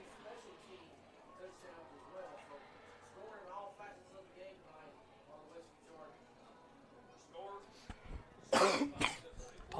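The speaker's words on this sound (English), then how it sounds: "Apologies for the coughing, ladies and gentlemen" A sports broadcast announcer coughs several times in a burst near the end, loud and close to the microphone, after a stretch of quieter talk and crowd murmur at a high school football game.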